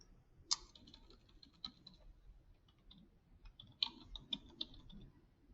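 Typing on a computer keyboard while editing a text document, heard as faint, irregular clicks and taps with a few sharper keystrokes standing out over a quiet background.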